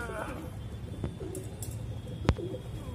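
A Saharanpuri pigeon gives soft low coos at close range over a steady background hum, with a couple of sharp clicks in between.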